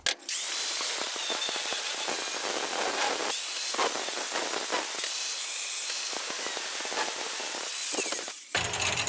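A handheld power drill bores small holes, a loud, continuous, close whine for about eight seconds that dips briefly several times before it cuts off near the end.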